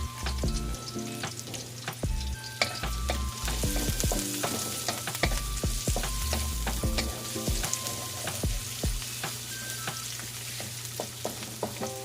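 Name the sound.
onion and garlic frying in pan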